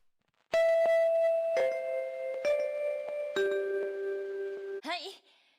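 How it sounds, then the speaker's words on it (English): A school bell chimes in the Honkai Impact 3rd video game: a clear, loud four-note descending ding-dong sequence with ringing tones, followed by a brief voice at the end. "There goes the bell."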